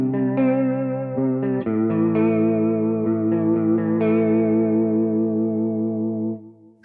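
An electric guitar played through a TC Electronic Dreamscape pedal with a lush chorus effect, sustained shimmering chords ringing loud and steady, then fading out at the end, with no voices.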